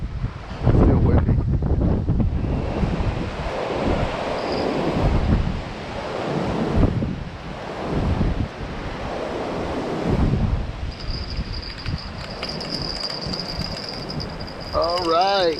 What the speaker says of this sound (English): the wind is going right through this way